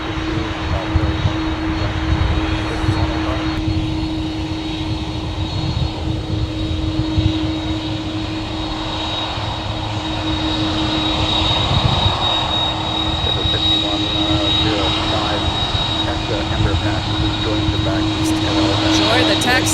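Airliner taxiing past at MSP airport, a loud sustained jet engine whine and rumble with a steady high tone, swelling slightly as it nears, with people talking over it.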